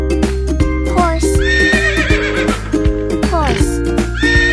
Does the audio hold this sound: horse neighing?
yes